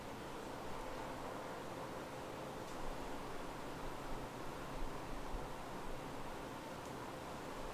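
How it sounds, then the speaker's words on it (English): Steady, even whirring hiss of an electric fan running close by in a forge workshop with no voices, a constant broadband rush that sounds a little like sizzling. "His fan sounds a bit like frying."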